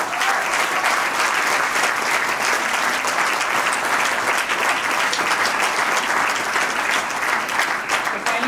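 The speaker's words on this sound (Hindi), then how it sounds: "जोरदार क्लैप" Loud, sustained applause from a large audience at a corporate award ceremony, dense clapping continuing evenly throughout with a faint crowd murmur beneath.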